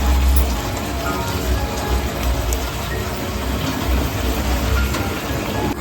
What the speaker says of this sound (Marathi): कांदा पेजपत्ता सर्व लसूण पैकी परतवून झालेलं आहे त्याच्यामध्ये आता चिकन घालून घेतोय